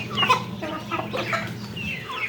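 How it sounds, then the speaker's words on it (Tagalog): A flock of farm chickens clucking busily while being fed, several overlapping clucks and short calls close by throughout. "Tingnan mo ng manok namin. Di ba ang dami nila?"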